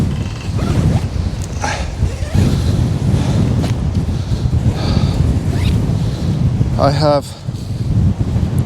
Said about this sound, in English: problems with the wind